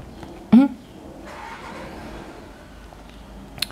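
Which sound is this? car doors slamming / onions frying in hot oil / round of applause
car doors slamming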